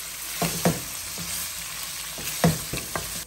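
Chorizo, sausage and ham browning in a pan over medium-high heat make a steady close sizzle, broken by several sharp knocks and scrapes from a utensil stirring the meat.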